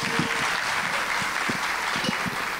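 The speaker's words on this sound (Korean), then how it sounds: "그럼 오늘의 첫 스피커 박준성 전무님을 큰 박수로 모셔보겠습니다." Applause from the audience at a Korean business conference as the first speaker, a Legend Capital managing director, is invited to the stage: steady dense clapping filling the room, with a few sharper claps standing out.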